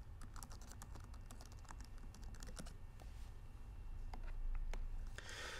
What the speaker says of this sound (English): So here we're going to type in the name of our server